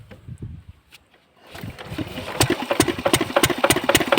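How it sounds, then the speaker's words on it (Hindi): A PSG diesel engine pump set for watering a paddy field starts with a single pull, then settles into a steady, quickening chug of regular thumps, close and loud. "देख लिया, एक पाक में स्टार्ट कर लिया है PHD का इंजन।"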